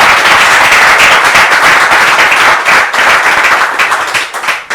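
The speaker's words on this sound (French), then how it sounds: "Est-ce qu'on peut franchement applaudir l'intervention du pasteur Abdoulaye" Loud, dense applause from an audience saluting a pastor's talk at an evening panel event, a steady roar of many hands clapping that thins slightly near the end.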